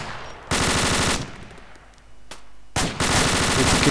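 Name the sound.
machine gun fire in a video game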